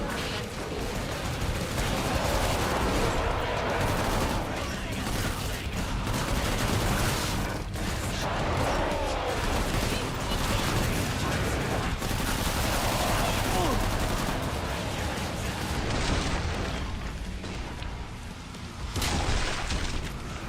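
Dense, continuous gunfire and booming blasts in the video game Killing Floor 3, a loud barrage that runs almost without pause and briefly thins near the end, with a voice speaking over it at times.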